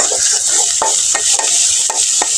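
Onion frying in a pan at home, a steady loud sizzle with occasional stirring clinks and scrapes of a spatula, close and continuous, no talk.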